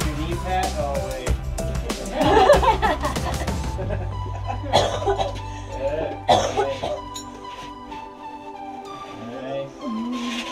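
A person coughs several times in quick bursts while talking and laughing outdoors during a chat about backcountry gear, the coughs close and mixed with voices.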